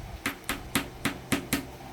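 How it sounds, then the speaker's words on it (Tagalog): Six sharp, hard knocks strike at an even pace, each a crisp pounding blow on something bony and solid, close by. "Pinupukpok na natin, people."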